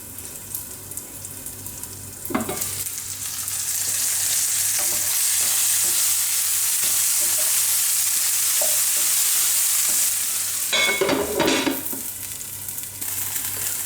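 Sausages fry and sizzle in a pan over a high flame, a steady close hiss running throughout with brief louder bursts of stirring and scraping near the start and again toward the end.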